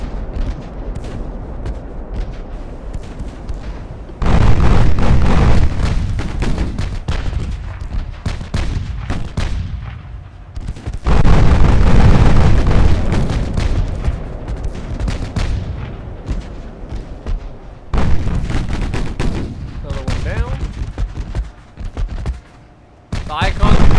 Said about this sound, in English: they're reloading the guns and getting the second salvo in the air before those shells actually